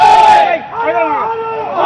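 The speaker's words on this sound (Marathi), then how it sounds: "या ठिकाणी अभिवादन करून जय शिवाजीच्या घोषणा या ठिकाणी देत आहेत." A crowd at a Maratha reservation celebration chants a loud, close slogan in unison, the massed voices rising and falling in a drawn-out cry.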